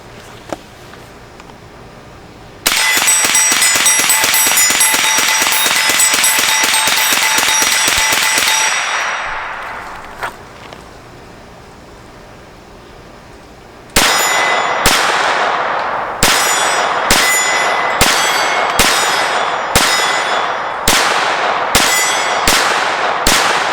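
.22 rifle shots ring a steel target outdoors: a long sustained metallic ring that fades, then about ten sharp cracks, each followed by a brief clang, firing at a quick, uneven pace.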